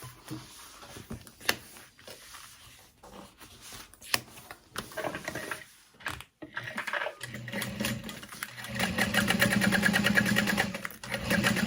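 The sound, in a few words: sewing machine top stitching backpack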